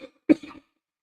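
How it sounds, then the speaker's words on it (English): A single short, close cough from an adult, one sharp burst followed by a brief throaty tail, then silence. "I don't know why I'm coughing."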